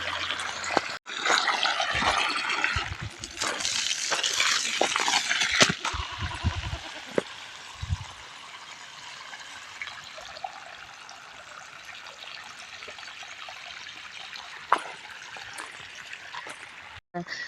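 Well water streams steadily through an irrigation line into a field of maize stalks, a continuous rushing wash that stays fairly even throughout, with a few louder splashes and bumps early on and a voice speaking briefly over it.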